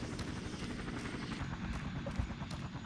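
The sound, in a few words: helicopters flying overhead in the video game Battlefield Vietnam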